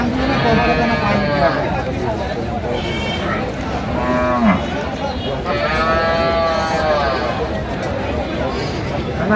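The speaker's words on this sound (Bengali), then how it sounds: "গাভী বাছুর।" Sahiwal cows and calves at a rural cattle market, several loud drawn-out moos close by, repeated over a crowded background where people talk.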